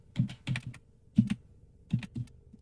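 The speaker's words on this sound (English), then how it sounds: "Too much typing." Computer keyboard typing in quick bursts of clustered keystrokes, with short pauses between each burst, close and fairly quiet, no talking.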